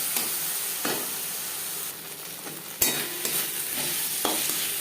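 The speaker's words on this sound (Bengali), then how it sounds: "তিন 4 মিনিট পেঁয়াজ ভেজে নেওয়ার পর দিয়ে দেব আদা বাটা, কাঁচা লঙ্কা বাটা।" Onion fries in a pan with ginger paste and green chili paste as a spoon stirs it, steady sizzle broken by several close scraping strokes.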